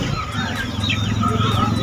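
A rooster and hen clucking softly amid a busy, noisy rooster market in Nallampatti, with faint murmuring voices and short bird calls scattered through the short stretch.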